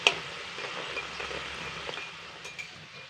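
Potato balls frying in hot oil, a steady crackling sizzle with small spitting pops throughout, close and fairly quiet, no one talking.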